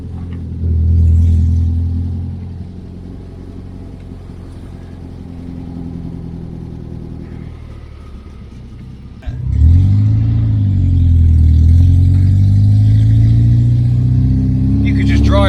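A 1975 Citroen D Super 5 engine running while driving, a steady mid-pitched rumble that swells as it accelerates later, with a person talking over it.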